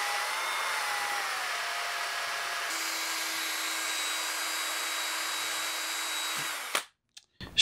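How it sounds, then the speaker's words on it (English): A cordless drill spins a small polishing buff against a painted antique hood ornament, giving a steady moderate whine that shifts pitch partway through, then stops with a few brief clunks at the end. "I'm just gonna be using this little buff with a cordless drill, so we're not gonna be having super high speeds"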